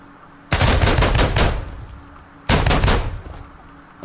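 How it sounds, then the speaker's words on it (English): Shotgun fire in the video game Ground Branch: two loud, close blasts about two seconds apart, each a sharp burst with a short rumbling tail fading back to near quiet. "The shotguns are actually really nice in this because they work like real shotguns"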